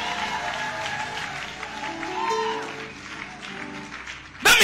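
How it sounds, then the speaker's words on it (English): Church congregation clapping in praise during a sermon: a soft spread of applause blended with sustained musical tones, ending in a sudden loud burst. "Give Jesus a clap of praise if you believe that."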